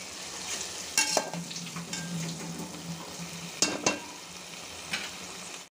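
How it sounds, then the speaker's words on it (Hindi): Tomatoes fry with browned onions in a pan as the korma base for chicken biryani, giving a steady sizzle under scraping stirs and a few sharp utensil clinks against the pan. "टमेटोज फ्राई हो गए हैं"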